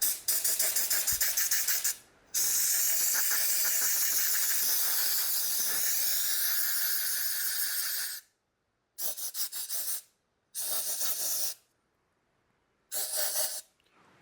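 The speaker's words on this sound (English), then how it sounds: "we're also going to take and shoot air on the clean side of the filter to force this gunk out" Compressed air blasting through the filter of a Roomba Combo i5 robot vacuum, a loud close hiss in a long burst followed by several shorter bursts with gaps of silence between them.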